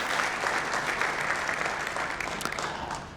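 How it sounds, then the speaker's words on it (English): A large audience at a Pan-African Prize ceremony honoring African kings and leaders gives sustained applause for the late Emperor Haile Selassie I of Ethiopia, a dense, even roar of clapping throughout. "Would you please give a big round of applause, ladies and gentlemen, to the late Emperor Haile Selassie I of Ethiopia"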